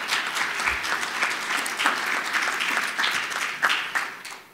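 An audience at a talk on building a culture of peace breaks into sustained applause, dense rapid clapping from a crowd that swells and eases over a few seconds, close and loud, with no speech.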